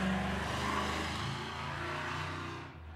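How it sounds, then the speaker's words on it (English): A truck drives past outside, its broad engine roar loud and sustained before fading away toward the end. "Not letting that truck drive us off"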